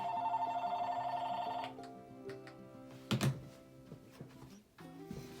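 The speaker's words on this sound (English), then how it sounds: "My phone never rings unless I'm making a video." A telephone rings indoors at a paper-crafting desk, a steady electronic trill for over a second, then stops, followed by scattered clicks and small handling knocks.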